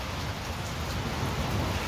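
Heavy rain with hail falls outdoors in the hills, a steady, dense, loud wash of drumming drops filling the whole stretch with no pauses and no voices.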